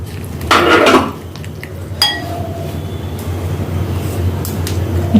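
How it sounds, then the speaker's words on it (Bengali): Clinks and scrapes of a utensil against a bowl while cornflour is mixed, prepared alongside soybean for a snack, with a few sharp chinks among softer stirring noises over a low steady background hum. "এবার কর্নফ্লাওয়ারটা আমি গুলে নিচ্ছি"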